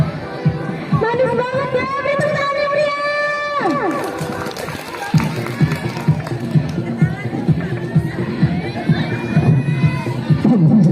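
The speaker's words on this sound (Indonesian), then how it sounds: "beri tepuk tangan yang meriah" Crowd of schoolchildren shouting and cheering at a Teachers' Day contest between classes and elementary schools at SMPN 1 Pagar Dewa, a loud, continuous excited din with voices rising and falling throughout.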